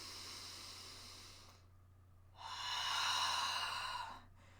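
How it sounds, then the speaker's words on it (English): Slow, deep breaths drawn through the whole rib cage in a singer's breathing technique: a soft hissing inhale, a pause, then a longer, fuller airy breath, close and quiet. "And you'll notice when I'm doing this, I'm not just breathing from down here."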